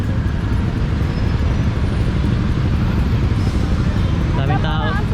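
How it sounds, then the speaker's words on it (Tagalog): Busy street traffic in Thailand hums and rumbles steadily nearby, with car and motorcycle engines passing under people talking, and a brief higher squeal near the end. "Traffic din dito eh."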